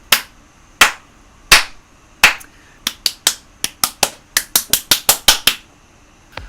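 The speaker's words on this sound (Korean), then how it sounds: "박수 한번 주세요." Sparse claps ring out one at a time in a room, slow at first and then quickening into a fast run of about twenty sharp, close claps before stopping.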